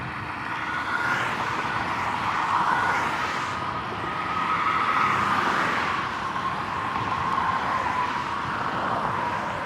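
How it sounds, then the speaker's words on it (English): Steady traffic on Algonquin Road, a continuous loud wash of tire and engine noise from cars passing close by, swelling and fading as vehicles go past, with no talking. "there's a lot of cars around here"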